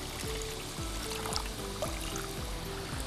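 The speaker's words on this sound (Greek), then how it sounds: "Θα βάλω και το νεράκι" Water is poured into a bowl of gravy mix in a home kitchen, a soft, steady trickling stream heard faint and close, with no talk over it.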